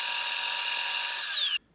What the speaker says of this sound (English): This is the diameter that will drill out the other side, the smaller radius, and then we'll do one more on this one up to 5/8.